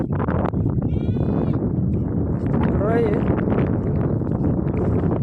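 Goats bleat in short wavering calls beside a village pond after being bathed, with steady wind noise and background voices throughout.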